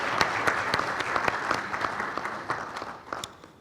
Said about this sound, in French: Un applaudissement pour le cabinet Patrick Laurent et associés.